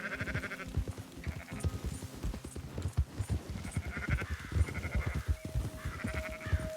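Sheep bleat repeatedly in the Red Dead Redemption 2 video game, with hoof clatter and other game sounds around them and a steady background bed.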